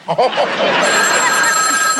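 An old telephone bell rings loudly and steadily in a TV comedy scene, a sustained bright metallic trill starting after a brief spoken word.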